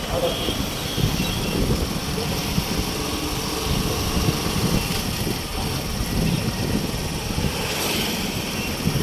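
A motorbike engine hums steadily while riding home from a market, mixed with loud wind rush throughout, as someone talks over it.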